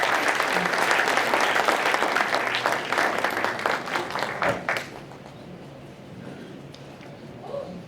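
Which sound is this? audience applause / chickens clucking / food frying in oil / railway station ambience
audience applause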